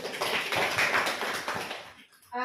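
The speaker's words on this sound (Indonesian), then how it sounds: "Kita berikan juga aplaus." An audience of teachers claps at a school training session, a dense burst of many hands lasting about two seconds before fading into near silence.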